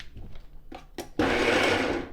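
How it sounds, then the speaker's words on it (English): A kitchen blender whirs to life to blend corn for raw vegan tortillas. A few soft knocks come first, then the motor roars in and holds loud and steady. "so let's put on the blender"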